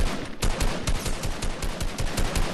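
Rapid automatic gunfire in Fortnite crackles in dense, evenly spaced bursts for the whole stretch. It is loud and close, and no one talks over it.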